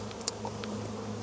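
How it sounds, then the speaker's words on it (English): Honey bees hum in a low, steady, soft drone during a varroa mite check, with a couple of faint brief clicks from handling. "we need to sample roughly 300 bees"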